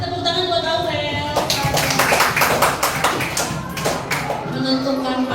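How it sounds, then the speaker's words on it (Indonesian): Classroom of students clapping for a classmate, a brief burst of scattered hand claps rising in the middle, heard close with voices talking around it. "Terima kasih, tepuk tangan buat Aurel."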